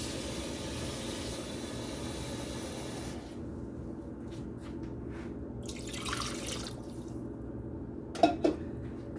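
Water being poured into a pot to cover beef short ribs for a vegetable stew, a steady splashing pour that stops partway, followed by a few faint drips and small clinks.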